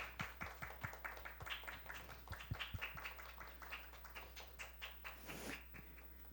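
A small church youth congregation at a worship service claps in a thin, irregular patter of a few hands, quiet and close, with low room hum underneath.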